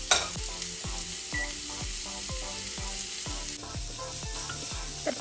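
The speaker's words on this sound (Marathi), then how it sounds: "तर मी आता त्याच पॅनमध्ये ऑल व्हेजीज ज्या कट केलेल्या आहेत त्या आता मी शॅलो फ्राय करून घेणार आहे." Chopped vegetables shallow fry in a pan with a steady, close sizzle. A regular, repeating tonal pattern runs underneath, with no talking.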